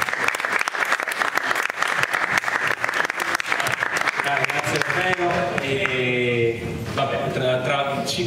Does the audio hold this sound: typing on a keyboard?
no